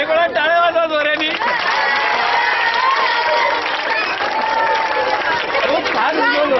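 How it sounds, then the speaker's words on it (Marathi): A crowd of schoolchildren at a school event clapping and cheering loudly and continuously, with voices mixed in throughout. "वेगळा टाळ्या वाजवा जोऱ्यानी"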